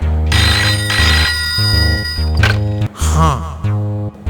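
A phone's electronic ringtone plays loudly, a repeating melodic tune of steady pulsed tones with a brief bump partway through and no voices.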